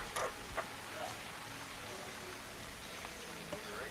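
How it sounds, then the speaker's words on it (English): Rain falling during a pro men's road bike race, a faint, even hiss with a few soft spattering drops, steady throughout and without any clear voices. "Well, lo and behold, that's what they're getting. Lots of rain."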